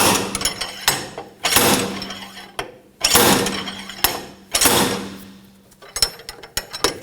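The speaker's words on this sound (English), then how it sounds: "We're going to use a slide hammer." A slide hammer strikes repeatedly while pulling the rear wheel hub bearing module off a 2000-2006 BMW X5, giving several loud metallic bangs with a short ringing tail, then smaller quicker knocks near the end, with no talk.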